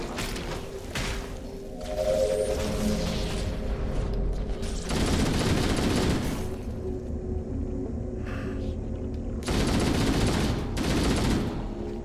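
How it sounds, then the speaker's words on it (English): Assault rifle fire in the Halo game's Library level comes in bursts of dense rapid shots, loud and close, with heavy thumping rumbles between volleys and no talk. "I've already gone through almost an entire load of clips for the assault rifle"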